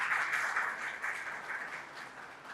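Sustained audience applause at the close of a panel session on AI-driven autonomous networks, a dense, even wash of clapping from a large room, fading slightly toward the end.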